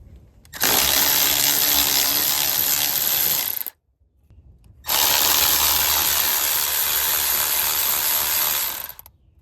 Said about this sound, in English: Basically just take those 2 bolts out and the part come right up.